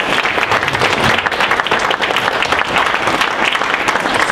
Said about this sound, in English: If we can give them a big round of applause.